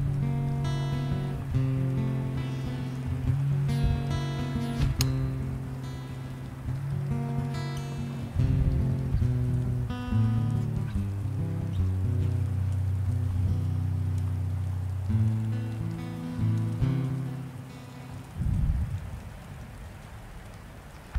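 Steady rain in the video game This War of Mine, falling continuously at a moderate level beneath a layered, sustained musical score.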